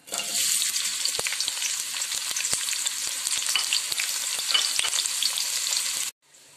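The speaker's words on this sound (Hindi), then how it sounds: "उसमें प्याज डाल देंगे।" Onions hit about half a cup of hot oil in a pot and sizzle steadily for several seconds, a loud, dense frying crackle that cuts off abruptly near the end, with no voices.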